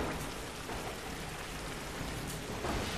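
Steady rain pours in a Tomb Raider game, a dense, continuous hiss of drops with a faint low rumble beneath and no voices.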